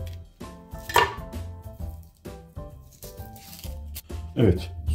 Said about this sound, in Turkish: soyup soğana çevirdiğim bu soğanı geniş güzel doğruyorum